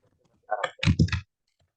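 Fingers tap a computer keyboard in one short burst of several quick clicks lasting under a second, with quiet before and after.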